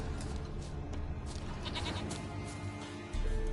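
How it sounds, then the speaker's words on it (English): Goat bleating in the video game The Witcher 3, repeated nasal bleats over a dense, steady game ambience, fairly loud and close with no talking. "Here, goat."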